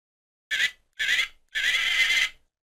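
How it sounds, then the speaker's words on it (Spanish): A horse whinnies in three bursts, two short high calls followed by a longer, wavering neigh, close and clear against silence. "Es un caballo."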